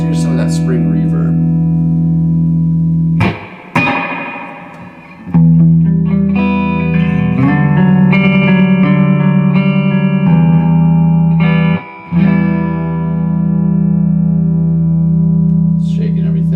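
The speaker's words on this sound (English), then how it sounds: "Spring reverb." A Marshall DSL 50 guitar amplifier plays a clean guitar through spring reverb. Loud, sustained chords and notes ring out with a lingering wash, and there are two brief drops near silence between phrases.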